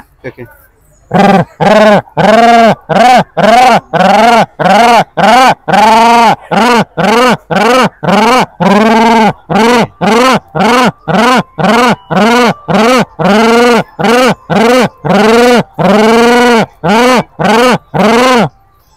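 Mimicry artist's voice imitating a pigeon: loud, close bursts of throaty cooing calls repeated in a quick, fairly even rhythm, dozens in a row with brief gaps.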